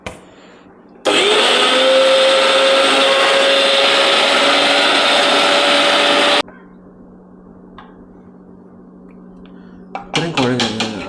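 An electric mixer grinder whirs loudly for about five seconds, grinding a drumstick leaf curry paste with curd. Quiet follows, then a few clattering knocks as the jar is handled.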